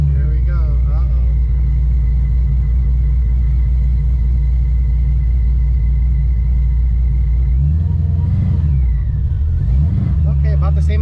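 A 2014 Ford Shelby GT500 with a Magnaflow Street series exhaust rolls over a speed bump, its steady loud engine drone dipping as the H pipe rubs and scrapes briefly underneath, heard from inside the car.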